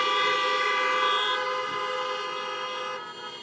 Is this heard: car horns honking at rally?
yes